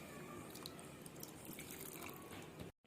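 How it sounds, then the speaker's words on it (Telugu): Water poured into a pot of curry to make gravy, a steady continuous splashing stream that runs without pause and then cuts off abruptly near the end, with no voices. "ఇందులోనే గ్రేవీ కోసం మరికొన్ని వాటర్ని యాడ్ చేసుకోవాలి."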